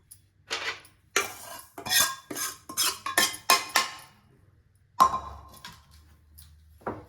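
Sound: stirring sweet paniyaram batter with idli batter

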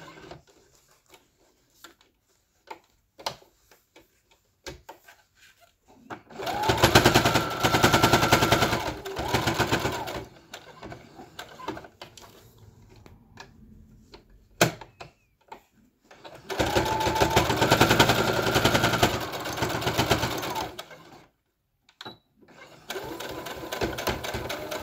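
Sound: sewing machine stitching over elastic on a face mask

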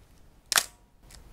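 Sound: metal focal-plane shutter firing on a K-mount SLR camera

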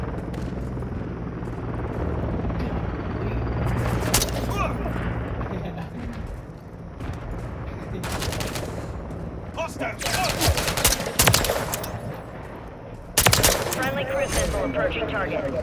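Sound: gunfire in Modern Warfare 3 video game

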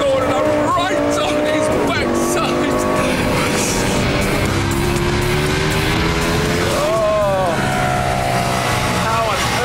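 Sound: Lamborghini Gallardo Superleggera racing Ducati 1098 V-twin motorcycle

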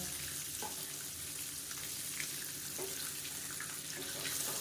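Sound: boiled eggs roasting in masala for egg curry

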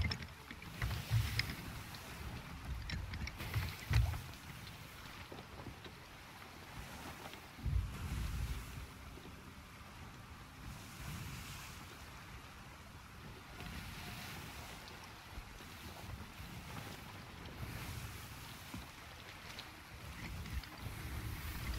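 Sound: wind blowing at sea in Sea of Thieves video game

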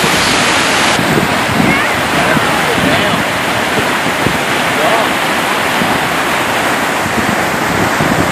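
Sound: wind by a flooded river

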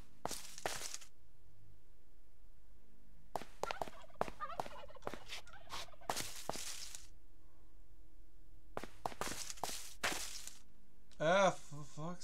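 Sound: chicken sounds in a video game

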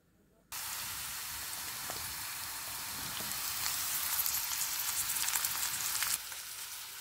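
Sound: vegetables frying in a pan

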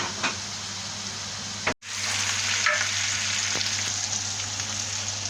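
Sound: stirring and frying kokoreç with tomato sauce

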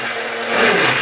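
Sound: grinder blades blending mineral foundation powder

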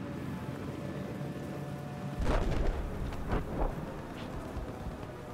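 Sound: thunderstorm in video game Battlefield 4

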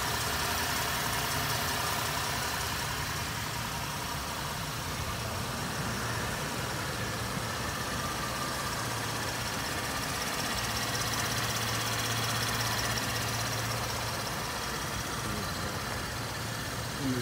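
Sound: 2015 Camaro RS 3.6 V6 engine idling

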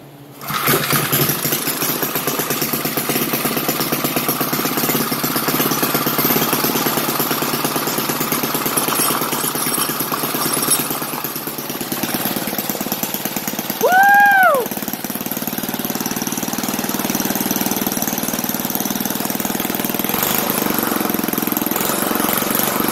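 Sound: vintage 3HP flathead engine running

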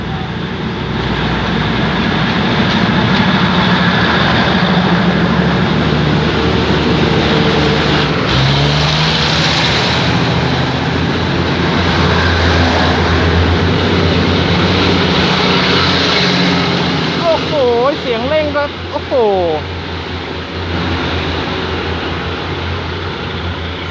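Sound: diesel railcar engine accelerating

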